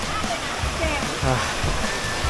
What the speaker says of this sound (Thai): นี่ครับน้ำตก